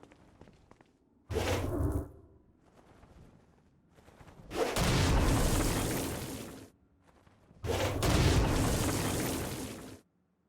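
Stone Blast attacks in the video game Saints Row: Gat Out of Hell: three loud, booming blasts with whooshing rumbles, each lasting a second or more, separated by quiet gaps.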